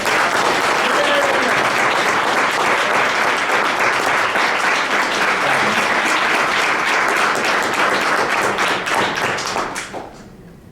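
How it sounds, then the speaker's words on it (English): An audience at a neighborhood champion awards ceremony in Sioux Falls gives a full round of applause, dense and steady clapping for about ten seconds before quickly tapering off. "Let's give Gigi a round of applause"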